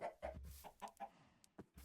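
Chickens clucking in the video game Minecraft, a series of short, quiet clucks in an uneven rhythm with small gaps between them, close by and without talk.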